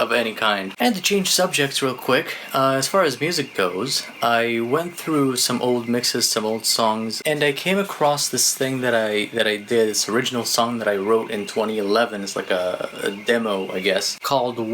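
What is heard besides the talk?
No everyday noises stand out.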